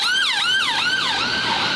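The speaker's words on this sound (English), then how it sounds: "the sound of sirens brings me right back to Compton" Emergency vehicle siren in London traffic, wailing in quick rising and falling sweeps, loud and close, with no talking over it.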